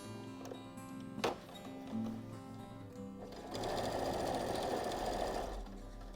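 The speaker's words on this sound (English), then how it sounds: "you're going to sew down one side, along the bottom and back up the other side" A sewing machine stitches a seam in denim for a tablet sleeve, starting with a few clicks and adjustments before running in a steady, loud continuous whir for the last few seconds, with no talking.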